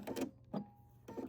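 A sewing machine stitches fabric back and forth in three short, quiet mechanical bursts separated by brief pauses.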